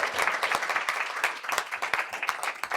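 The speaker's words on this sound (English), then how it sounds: "Let's give them a round of applause." Audience members at a school board meeting clap for an award-winning high school winter guard team, with moderately loud, uneven applause and distinct individual claps popping out of the crowd.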